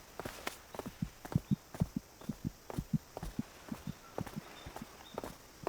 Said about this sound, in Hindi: क्या किसी दोस्त की वजह से तुम्हारी दिल की धड़कन इतनी तेज हो सकती है?